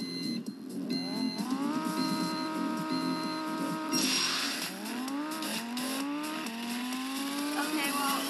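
Cars racing in a drag race in the video game Driving Empire, engine whine climbing steadily through gear after gear with repeated upshifts, mixed with game music and beeps at moderate loudness.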